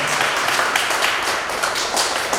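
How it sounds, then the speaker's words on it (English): Workshop audience breaks into a round of applause for a speaker being introduced, steady dense clapping from a hall full of people, close and fairly loud throughout without a break. "a round of applause for this wonderful man."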